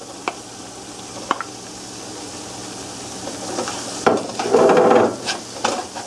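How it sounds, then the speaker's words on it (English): Chopped shrimp is sautéed in a pan with mushrooms, garlic and onion for Oysters Bienville. A few spoon taps on the pan come first, then a louder burst of sizzling and stirring as the shrimp goes in. "Now we're going to add our chopped up shrimp."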